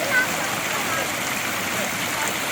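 River water in a forest near Cavite rushes in a steady broadband roar, loud and close, with little variation, and a faint voice appears to be talking under it.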